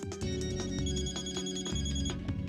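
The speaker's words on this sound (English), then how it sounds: "I heard a cell phone vibrating on one of the desks, so I rushed over to check it" A cell phone on a desk in the game Death end re;Quest buzzes and rings in a steady run of evenly spaced pulses, several repeats over a few seconds, close and fairly loud with no voices.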